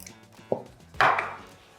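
Butter block mixed by hand into buttercream in a bowl: two dull, soft knocks and scrapes close by, the second longer and brighter, set in near-quiet with no talk.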